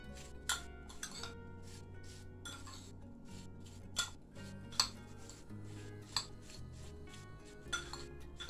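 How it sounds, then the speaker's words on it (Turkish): Diced apples tossed with cinnamon and sugar in a bowl, stirred with a spoon: quiet, irregular clinks and scrapes of metal against the bowl, spaced out over a soft background with no talk. "Ona 1 tatlı kaşığı tarçın, 1 yemek kaşığı toz şekeri koyup şöyle önce bir karıştıralım"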